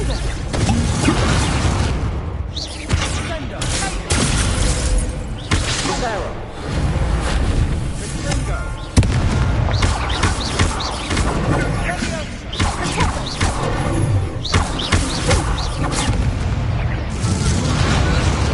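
Incendio fire spells in Hogwarts Legacy blast repeatedly in loud, dense bursts and booms with whooshing flames, a near-continuous barrage of fiery eruptions lasting throughout.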